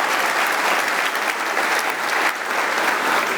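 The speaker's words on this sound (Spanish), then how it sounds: "En el nombre de Cristo Jesús te damos el mejor aplauso de nuestra vida" A church congregation bursts into dense, sustained applause, many hands clapping together at full volume throughout, with no voices heard above it.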